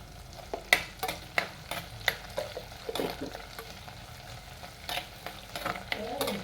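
Cumin seeds fry in hot oil for a tuna fish curry while a spoon scrapes the pan in sharp, irregular strokes over a soft, steady sizzle, close and clear.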